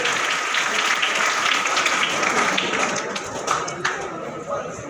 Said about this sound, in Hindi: लड़कियां माशाल्लाह बहुत अच्छी तालियां बजा रही हैं।